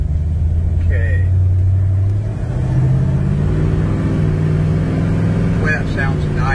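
A 1967 Plymouth GTX engine on a road test, a close, deep rumbling drone whose pitch climbs gradually as it accelerates, with brief voices over it.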